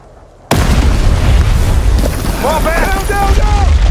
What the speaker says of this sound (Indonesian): Ledakan besar itu langsung memicu longsor